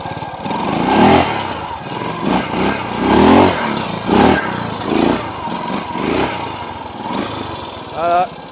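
A Honda motorcycle engine revs and accelerates in loud surging bursts, with people talking over the engine noise throughout.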